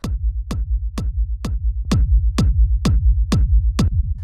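Acid techno kick drum without drum-bus glue, nine punchy evenly spaced hits about every half second, each followed by a deep sustained rumble that fills the low end, loud and alone with no voices.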